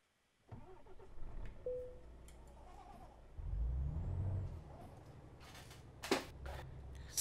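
A truck's parking brake air release hisses sharply in Euro Truck Simulator 2, a short pneumatic burst near the end over a steady low engine rumble, after an engine start and idling.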